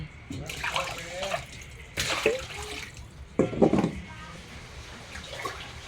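Fish is washed in water until it runs clear, three or four bursts of splashing and pouring water separated by short pauses, moderately close.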